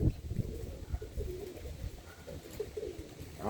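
Birmingham Roller pigeons cooing softly in a loft, low repeated coos with light rustling, fairly faint and close, with no talking.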